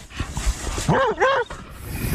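An avalanche rescue dog on Snowmass Mountain, Colorado, lets out a few sharp, close barks and rising yelps in quick succession amid faint background noise.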